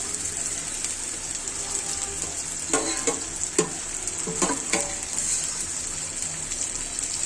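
Boiled beef, cooked with bay leaves, fries in a pan with a steady close hiss of oil, broken by a few sharp scraping stirs in the middle.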